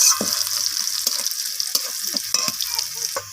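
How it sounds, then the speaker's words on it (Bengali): Onion frying in hot tempering oil in a pan for dal, a steady close sizzle with repeated stirring scrapes and spoon knocks throughout, no voices. "পেঁয়াজটাকে একটু ব্রাউন রং ধরা পর্যন্ত পেঁয়াজটাকে একটু ভেজে নেব"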